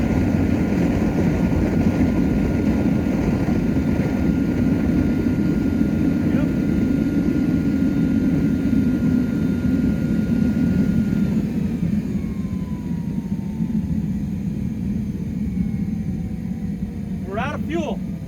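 A naphtha-diesel jet fuel burner roars in a steady, loud, broadband rush that slowly weakens as the fuel runs low and the flames shrink, with a faint whine drifting down near the end.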